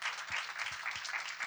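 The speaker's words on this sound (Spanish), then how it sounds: "Les pido un aplauso para ellos" Audience applause for the featured speakers at a Borges literary event, a steady wash of many hands clapping, moderately loud and continuous with no talk over it.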